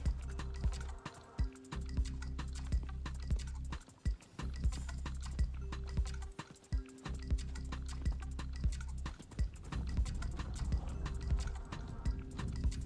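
Horse hooves clip-clopping steadily in the Diablo 4 video game, a continuous rhythmic trot with brief pauses, fairly close and alone without talk.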